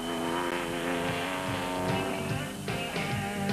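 The Pro-M Rock Oil race car running in the Baberspan 500 off-road race: a loud, continuous high-revving engine whine that rises and shifts pitch as it accelerates, close and steady with no talking.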